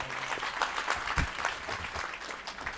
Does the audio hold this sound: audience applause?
yes